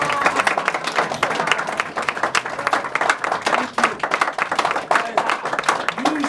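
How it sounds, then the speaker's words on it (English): A crowd at a Virginia political event applauds Senator Mark Warner, loud and close, with many hands clapping in a dense, uneven rattle and a few voices cheering underneath. "how about a big round of applause for Mark Warner?"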